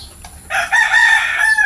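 Maclean sweater gamefowl, a close, loud crow that rises after a short quiet start and is held for about a second.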